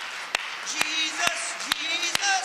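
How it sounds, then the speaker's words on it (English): A church congregation claps in a steady rhythm of sharp, evenly spaced single claps under a voice that keeps speaking. "why don't we just clap our hands unto the Lord all over this house?"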